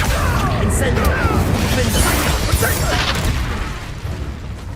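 Spells cast in the Hogwarts Legacy video game burst out as dense magical whooshes and booming impacts, with voices calling out during the constant, loud game noise.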